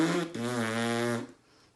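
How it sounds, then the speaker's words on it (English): Lips buzzing on their own with no trumpet mouthpiece make one sustained, rough, flatulent-sounding buzz of about a second, loud and close, then cut off. "If we buzz just our lips,"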